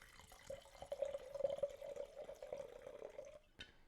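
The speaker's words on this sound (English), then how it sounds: "Audio proof that the wine has been opened and has been poured." Wine pouring into a glass held up close to a microphone, a faint steady trickle lasting about three seconds, then a soft clink.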